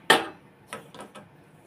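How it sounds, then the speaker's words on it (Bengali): A household gas stove burner being lit in a kitchen: one sharp click followed by a few softer ticks and faint hissing, close and brief. "গ্যাসটা ধরিয়ে নেব।"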